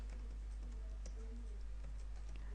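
A command is typed on a computer keyboard, a quick run of light, close key clicks over a low steady hum, with no voices.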